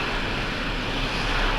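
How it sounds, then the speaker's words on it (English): A jet engine spooling up during a ramp start in the Falcon 4 Allied Force flight simulator, heard as a steady, loud, broadband whine and roar with no talking. "you will see on this gauge that the engine is starting"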